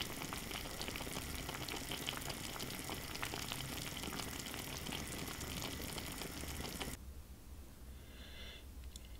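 Cardoons cooking in a pot until tender, a dense, steady bubbling and hiss that fills the first seven seconds before dropping away to a much quieter simmer.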